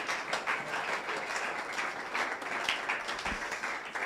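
A church congregation applauds together, a dense steady wash of many hands clapping throughout, fairly loud and continuous with no break.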